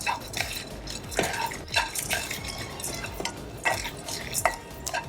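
Pepper, cumin, coriander seeds and dried red chillies being dry-roasted in a pan, with repeated scraping and stirring clatter of a spoon against the metal and a faint background of light crackle.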